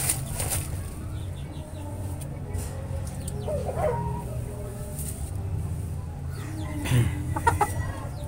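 Kanawayon hennie chicken clucking softly amid rustling and background noise, with a few brief calls and a flutter of wings near the end.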